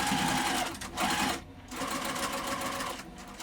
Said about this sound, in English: Now I'm just going to sew this according to the instructions.